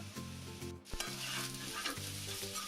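Eggplant fries lightly in oil in a pan, a close steady sizzle with repeated stirring scrapes and one sharp knock, with no talking.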